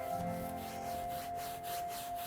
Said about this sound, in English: We'll try to scrub some of those fingerprints off.